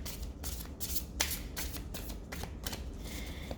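A deck of playing cards is shuffled up close, giving repeated quick riffling bursts and soft papery flutters in an uneven rhythm, with no voices.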